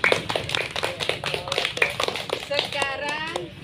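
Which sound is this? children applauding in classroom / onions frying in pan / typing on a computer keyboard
children applauding in classroom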